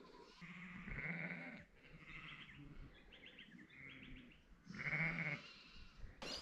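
Sheep bleat in a few separate calls, moderately close, along the Heysen Trail, with faint chirping birds between them and no talking.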